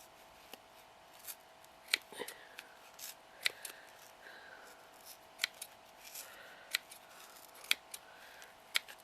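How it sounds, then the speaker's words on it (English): Sharp scissor snips and clicks at irregular intervals, close by, as scissors poke through and cut material for a vintage heart Christmas decoration, with faint rustling of material between the cuts. "And then poke the scissors up the centre."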